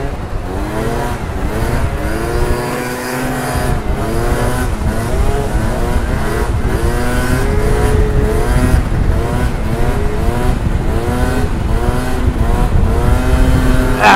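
A 70cc scooter engine revs hard at a closed-off stunt spot, loud and close, its pitch rising and falling in rapid repeated bursts that sound like a racing two-stroke.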